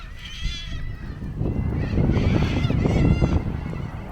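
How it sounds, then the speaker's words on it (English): Birds call loudly at an outback rest area in Western Australia, harsh honking and squawking cries repeating over a low rumble of traffic and trucks nearby. "this is a noisy place thanks to the trucks and the birds"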